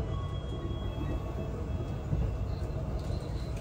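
An Indonesian passenger train bound for Semarang rumbles steadily from inside, a low continuous drone with faint rattling and no voices.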